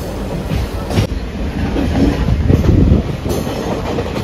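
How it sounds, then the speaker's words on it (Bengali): A DMU passenger train pulling into New Mal Junction in the Dooars, a loud close rumble with rhythmic wheel clatter over rail joints and brief squealing, heard from on board. "এবারে আমাদের ট্রেন ঢুকছে নিউ মাল জংশনে।"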